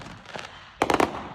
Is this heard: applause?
no